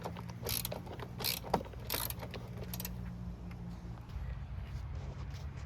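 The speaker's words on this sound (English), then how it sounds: "the little ratchet wrench here is not absolutely necessary, but it's a little hard to get a socket on there" Small ratchet wrench turning a bolt on the driver side engine mount of a 2011 Ford Fusion 2.5L, giving a quick series of close, faint clicking ratchet strokes in bursts against a low background hum.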